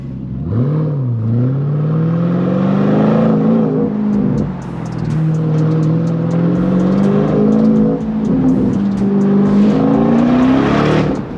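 Close and loud, an 800 hp four-wheel-drive sports car accelerates hard, its engine pitch rising through long pulls with a short shift dip midway. Sharp crackles sit over the steady roar.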